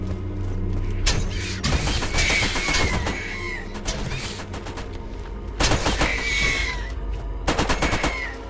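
Rapid automatic turret fire in the Borderlands game, with repeated bursts of gunshots crackling across a busy battle soundscape with heavy low rumble, the bursts loud and close and occurring several times.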